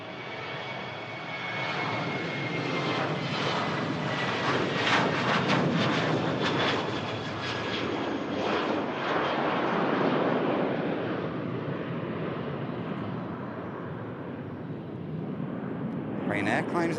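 Ryanair jet airliner climbing out after takeoff at Manchester Airport, a broad, roaring engine noise rising and then slowly fading, with wind buffeting the microphone and some talk over it.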